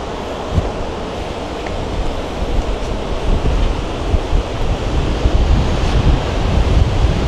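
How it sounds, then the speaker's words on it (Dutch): Strong wind gusts buffet the microphone on a coastal climb at the easternmost point of mainland Australia, a loud, continuous roar with surf-like washes and low thumps, no talking. "Wat een wind, hè?"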